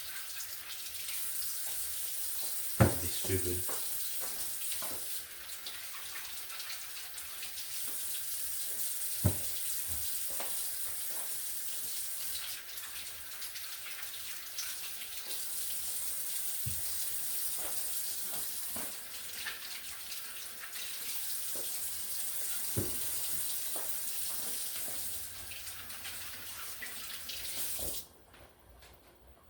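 Apples are rinsed under a running kitchen tap, with a steady loud hiss of water into the sink for nearly half a minute and occasional knocks and clunks. A brief spoken remark comes in partway through, and the flow cuts off near the end.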